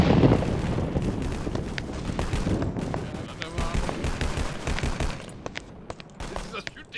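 Bursts of M60 machine gun fire in the Vietnam War shooter Vietcong during online co-op play, rapid clattering shots mixed with other gunfire and explosions, heard under players talking.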